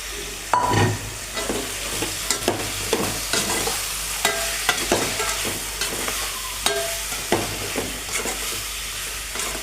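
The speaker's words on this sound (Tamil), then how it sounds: "நம்ம ரெடி பண்ணி வச்சுருக்க பிளாக்காயை இதில் சேர்த்து நம்ம வந்து நல்லா வந்து வதக்கிடலாம்" Tender jackfruit and tomato sauté in a pan, a continuous loud sizzle broken by repeated rhythmic scrapes and taps of a spatula stirring, close and clear with no voices.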